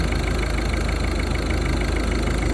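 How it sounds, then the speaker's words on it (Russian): A 2008 Ford Focus 1.6 diesel engine idling loudly and close on first start before injector correction, running rough with a constant mechanical rumble and a faint uneven pulsing throughout. "Это первый запуск. Еще до адаптации, до коррекции форсунок. Хорошо. Мотор дергается."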